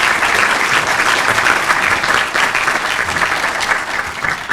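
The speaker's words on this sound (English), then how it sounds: "Please give her a round of applause." An audience at a healthcare innovation summit applauds as a guest comes onto the stage, a loud, dense, sustained round of clapping that stays steady throughout.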